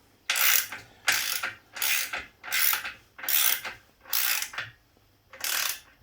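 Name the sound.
power tool tightening trailer suspension bolts on low power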